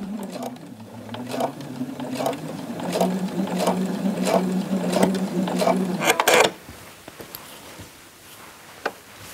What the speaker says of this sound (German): Mit einem elastischen Gradstich näht sie die beiden Teile zusammen.